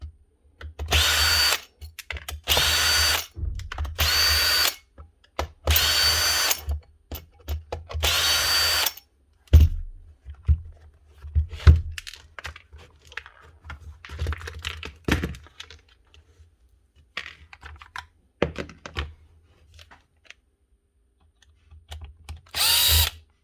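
A powered screwdriver backs out T10 and PH2 screws from the handle and motor body of a DeWalt DCP580 planer: five or six loud, close whirring bursts early on, then scattered clicks, clatters and shorter spins of driver and parts.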